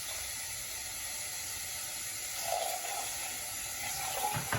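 Rice grains are rinsed in water in a sieve, a soft continuous running-water wash with faint trickles and slight swells near the end.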